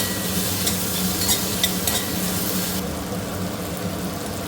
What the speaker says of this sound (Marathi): कांदा हलकासा गोल्डन ब्राऊन झाला आहे यात घालते टोमॅटो टोमॅटो थोडा शिजून द्यायचे